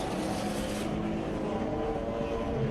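A BMW E36 330i track taxi race car at a BMW M Performance Parts race series event, its engine droning steadily and loudly throughout at close range, with a bright high-frequency edge dropping away partway through.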